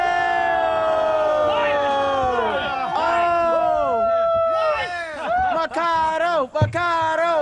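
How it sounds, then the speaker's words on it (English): A crowd at a wrestling show jeers loudly, many voices drawn out in rising and falling tones that stay continuous and close, with individual shouts poking through the mass of sound. "And the crowd here booing Joseph Anthony"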